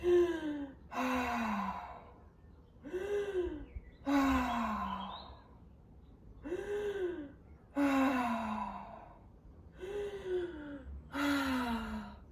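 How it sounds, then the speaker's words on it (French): Loud, deliberate breaths during a Pilates belly-strengthening exercise: a slow series of about eight heavy, voiced exhales and inhales, close to the mic, each lasting about a second with short pauses between. "j'hésite pas à faire du bruit avec cette respiration"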